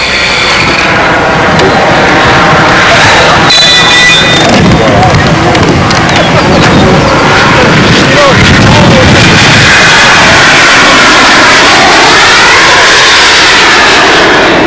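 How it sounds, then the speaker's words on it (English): A radio-controlled model jet flies past with a loud, continuous jet engine roar that rises and falls, with a brief crackling burst midway and people talking faintly underneath at a model aircraft meet. "You can hear the noise, the jet engine."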